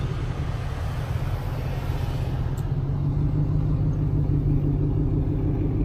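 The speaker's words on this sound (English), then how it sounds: "The Ford that was there earlier that also kind of circled by." A black Ford Explorer circling past a campsite in the wild: a steady low engine rumble and tyre hum, fairly close and continuous, with no voices.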